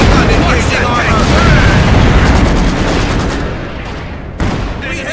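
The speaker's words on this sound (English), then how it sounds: "Anti-tank gun will open fire." Loud, continuous gunfire and explosions from a World War II battle in the video game Company of Heroes 2, with rattling fire, booms and rumbling blasts layered densely together and a brief dip near the end.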